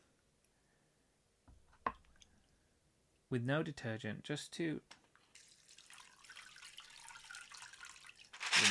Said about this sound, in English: I'm just going to use some clean water